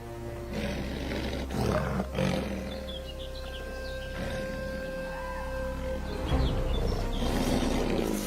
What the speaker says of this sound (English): the deep roar of an adult male lion echoes across the plains